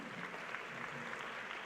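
An audience at a National Science Challenge grand final applauds the competition participants, a soft steady patter of many hands clapping at a distance throughout the brief moment.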